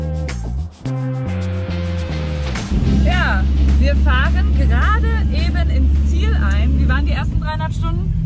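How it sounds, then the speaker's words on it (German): Low steady engine and hull drone of a ferry carrying cars at sunset, with a loud rumble rising after a few seconds and people chatting over it throughout. "denn wir fahren jetzt auf einer Fähre in Sonnenuntergang"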